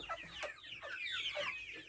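Several chickens clucking in short, overlapping bursts up close while they peck at an ipil-ipil leaf snack on a rural farm, with no talking.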